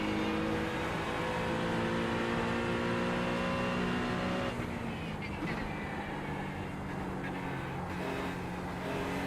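A Ford Mustang race car engine in iRacing drones loud and steady with rising harmonic pitch, then drops tone as the driver lifts off, continuing as a rough sustained roar with brief crackles.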